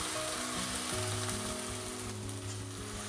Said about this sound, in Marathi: चांगला तेल सुटस्तोवर आपल्याला हे परतून घ्यायचं आहे बघा